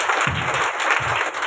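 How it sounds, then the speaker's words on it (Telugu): Many hands clap in a church worship gathering, a thick continuous applause-like crackle with a loose rhythmic beat and no voices. "ముందు చప్పట్లు కొట్టండి"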